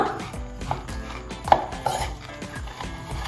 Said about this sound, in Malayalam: നമ്മുടെ ചക്ക ഇട്ട് നന്നായിട്ടൊന്ന് ഇളക്കി കൊടുക്കുക